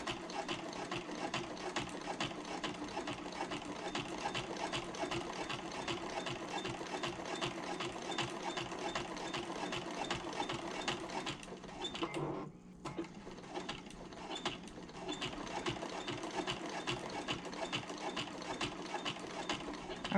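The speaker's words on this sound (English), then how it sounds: "I'm gonna stitch, pivot, stitch, pivot, and continue on." A domestic sewing machine stitches a zipper pocket onto a handbag, its steady whirring mechanism running almost continuously at a moderate level, with a brief pause near the middle for a corner pivot before stitching resumes.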